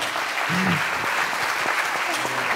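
Audience applauding at a live talk, a dense, steady wash of clapping throughout, with a voice briefly audible underneath.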